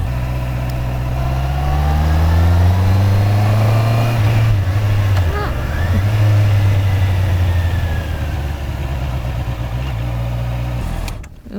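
A motorcycle engine on a riding lesson course rises in two quick throttle blips during downshifts, the revs swelling and falling back near and loud over a steady running drone.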